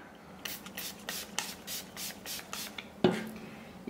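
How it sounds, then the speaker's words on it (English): A series of short spray wax aerosol bursts, about eight in quick rhythm, close by, followed by a louder clunk. "and then you spray it on."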